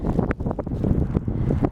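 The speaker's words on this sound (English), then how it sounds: "really windy" Strong wind buffets the microphone on an afternoon walk, a loud, continuous rumbling roar with gusty swells throughout and no voices.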